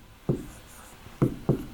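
An Arabic word is written on a board with three short, distinct strokes or taps of the writing tool, close and clear against a quiet room.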